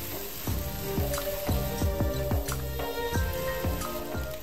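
Squid biryani masala with tomatoes, coriander leaves and fried onions is stirred in a pan, a steady sizzle broken by regular scraping, knocking strokes of the spoon, close and fairly loud with no talk.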